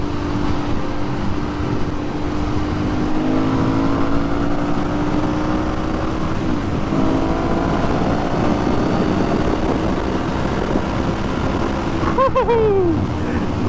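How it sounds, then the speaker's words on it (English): An Aprilia Shiver 900 motorcycle pulls hard under full throttle, its engine droning steadily and loud, with pitch climbing through the gears, wind noise over the top and a quick high whine near the end. "Yeah, this bike goes, man."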